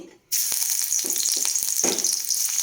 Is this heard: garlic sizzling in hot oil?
yes